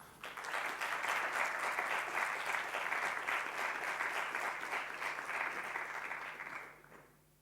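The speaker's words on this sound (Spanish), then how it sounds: "les pido que les demos la bienvenida con un aplauso a Roberto" Applause from an audience welcoming a presenter at a daytime event, a dense, even clapping that holds steady for about six seconds before fading out, somewhat distant and with no voices over it.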